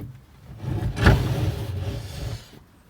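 A wooden model railway baseboard scrapes and thumps as it is squeezed down into place, a rough rubbing creak with a dull knock near the middle, close and moderately loud, with no voice.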